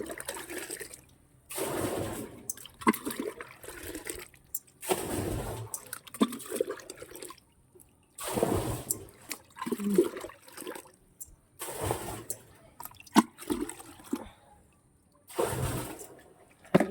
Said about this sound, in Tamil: இனி இந்த பேசனில் உள்ள தண்ணியை அப்படி எடுத்து மோந்து ஊற்றணுங்க.